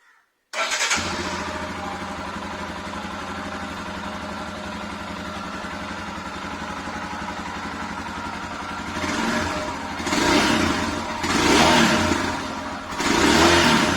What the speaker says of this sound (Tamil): அப்படியே ஒரு சின்ன எக்ஸாஸ்ட் நோட் கேட்டுட்டு அப்படியே வந்து வீடியோ முடிச்சுக்கலாம்.